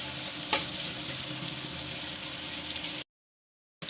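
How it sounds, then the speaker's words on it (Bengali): Onions fry in hot oil in a pan and are stirred, giving a continuous close sizzle with one sharp scrape, then a short silence before the sizzle resumes. "এবার এগুলো নেড়ে চেড়ে খুব ভালো করে লাল লাল করে ভেজে নেব।"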